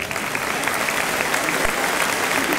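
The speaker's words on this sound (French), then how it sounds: "Vous pouvez les applaudir bien fort." Applause from spectators at a judo club demonstration, a steady, even roar of clapping held at constant loudness throughout, with no talk over it.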